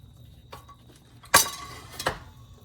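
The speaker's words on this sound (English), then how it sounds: "In the boiling water, we drop the beans." A sharp clatter and splash as green beans drop into a pot of boiling water, followed by a second softer clink, with quiet kitchen background.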